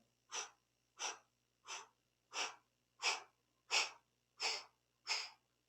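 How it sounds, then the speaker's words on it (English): Eight short, forceful breaths pushed out through rounded lips during a Kundalini yoga back kriya, evenly spaced and steadily rhythmic, each one an airy puff that builds slightly in loudness, close and alone with no talking. "an 8-part exhale through the mouth with rounded lips"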